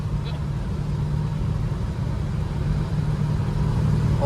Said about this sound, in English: Going for a ride in a 67 Chevelle SS